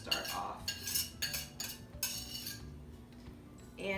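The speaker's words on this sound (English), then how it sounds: "I'm just going to use a whisk" A whisk clinks and scrapes repeatedly against a bowl while working softened vegan margarine, giving a run of close, uneven metallic taps and strokes that slow toward the end.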